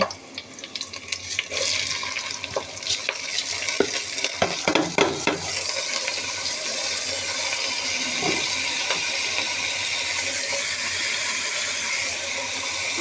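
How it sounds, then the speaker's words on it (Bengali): Onions fry in oil in a pot with bay leaf, cardamom, cinnamon and cloves for mutton biryani: several scraping stirs over the first half, then a steady, close sizzle. "পেঁয়াজটা ভাজা হয়ে আসছে"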